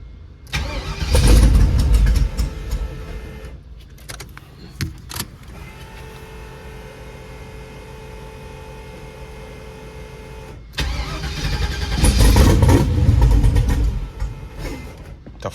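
A twin-turbo LS engine in a G-body car is cranked by the starter in two loud grinding bursts, at the start and near the end, separated by a quieter stretch of electrical whine, without firing.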